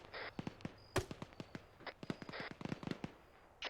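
Distant explosions and sharp cracks in the Arma military video game, a string of irregular bangs and pops at low volume, faint and echoing with quiet gaps between.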